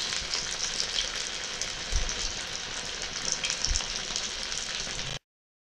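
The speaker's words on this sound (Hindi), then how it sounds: "कटलेट को पलटकर गोल्डन ब्राउन होने तक सेकेंगे" Sabudana cutlets shallow-frying in a pan after being flipped, a steady dense crackling sizzle that holds level throughout with no voices, then cuts off abruptly near the end.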